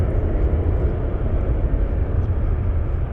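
A United Boeing 777 lines up on runway 7 center at Frankfurt airport, its engines giving a steady, loud, broad rumble that holds evenly and unbroken throughout.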